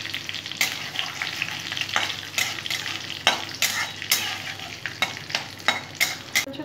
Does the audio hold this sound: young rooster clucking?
no